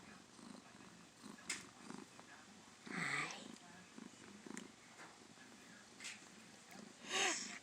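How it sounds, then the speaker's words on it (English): A male cat purrs steadily in a low, continuous rumble held close, with brief higher bursts of sound breaking in now and then. "You can hear him purring."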